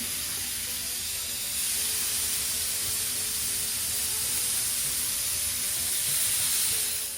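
Seasoned burger patties sizzle on a flat top griddle with a steady, dense hiss that holds evenly throughout, close and fairly loud with no voices.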